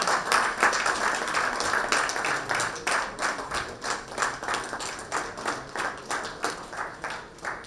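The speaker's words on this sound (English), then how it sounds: "Can we have a round of applause, please?" An audience at a climate and water security conference session applauds, many hands clapping in a full, close patter that gradually settles into a slower, more rhythmic beat.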